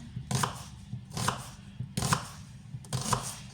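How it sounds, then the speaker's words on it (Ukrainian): A knife slices an onion into half-rings on a cutting board while potatoes with chicken breast are prepared for the oven, giving four distinct, evenly spaced chops, close and fairly quiet. "Цибулю я буду різати так, полукольцями."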